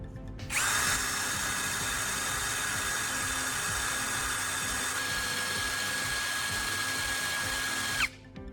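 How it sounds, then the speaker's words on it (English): A power drill spins a carbon rod against sandpaper to grind its tip to a point, a steady high whine that starts abruptly, holds evenly for about seven seconds with a slight pitch shift, then cuts off. "I chuck the carbon rod into my drill and use some sandpaper to grind the tip into a sharp point."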